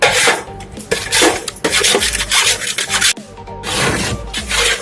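Gram flour roasting in a pan over a low flame, stirred continuously with a spoon that scrapes and rubs against the metal in repeated strokes, close and fairly loud.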